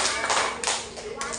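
Schoolchildren in a fourth-grade classroom clap together in a counted rhythm, three sharp group claps in quick succession, loud and close, with young voices mixed in.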